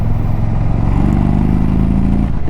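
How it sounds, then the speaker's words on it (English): A loud, close Indian Super Chief 116 Thunderstroke motorcycle engine rumbles steadily as the bike brakes hard with ABS, its pitch holding low and even throughout. "it does an incredible job of slowing the motorcycle down"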